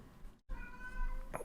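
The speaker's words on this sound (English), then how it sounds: "Sorry for the cat." A single short cat meow, clear and close, with a rising harmonic tone, followed by a faint click.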